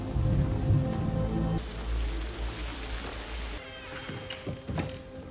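Heavy rain pours steadily outside an inn, a dense close wash of falling water with a low rumbling undertone that thins partway through, leaving lighter patter and a few scattered drops.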